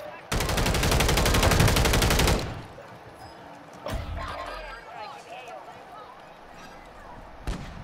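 Automatic gunfire in the Call of Duty video game rattles out in one sustained rapid burst, followed by a few scattered, quieter shots and impacts.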